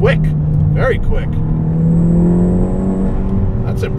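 A Volkswagen MK6 GTI with a big turbo and limited-slip differential accelerates hard from inside the cabin, the engine note climbing steadily, loud and close, with short bursts of a voice talking over it.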